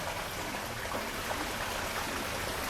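Gentle water flowing in a garden in Jamaica, a soft continuous trickle and babble heard fairly close, with no voices.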